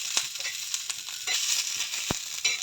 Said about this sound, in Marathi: तर सराट्याच्या सहाय्याने अशा मिरच्या ह्या प्रेस करून चांगल्या प्रकारे भाजून घ्यायच्या